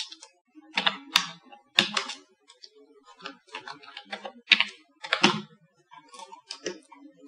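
Typing text on a computer keyboard while designing a business card in Photoshop, with irregular bursts of close, crisp key clicks and brief pauses between words, no talking.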